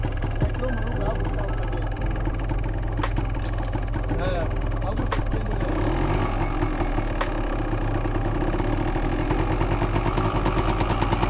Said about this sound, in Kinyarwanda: Ubwo bamaze kwata moto.